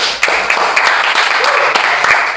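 A few people in a small room clap in a quick, loose burst, close and fairly loud, with talking mixed in between the claps.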